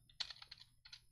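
Quick bursts of keystrokes clatter on a new computer keyboard, close and crisp, with a short pause before another run of typing.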